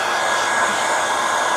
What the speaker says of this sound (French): Il chauffe bien le sèche-cheveux.